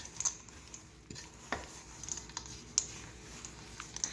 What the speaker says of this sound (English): Now, what we're going to do now is we're going to mix this together.